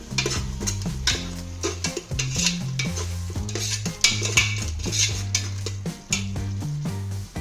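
Tomatoes and chicken are sautéed and stirred in a pan for kabsa, a gentle sizzle broken by repeated scraping and clinking strokes of a utensil, close by and without talk.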